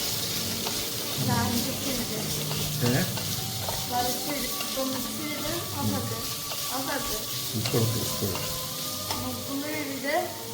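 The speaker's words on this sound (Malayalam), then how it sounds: "ഉള്ളി ചേർത്ത് നന്നായിട്ടൊന്ന് ഇളക്കുക" Chopped onion sizzling in a pan for a spicy crab dish, a close, lively crackle with busy, repeated stirring and scraping.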